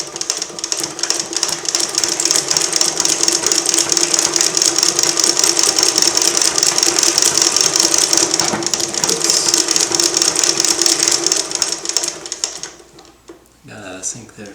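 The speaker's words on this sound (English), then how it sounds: "I'll show you how fast I can make it go" Industrial sewing machine on a domestic treadle base running fast, a dense, rapid mechanical chatter that is loud and close and steady for about twelve seconds before it slows and stops.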